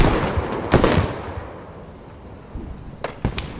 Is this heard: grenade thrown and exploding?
yes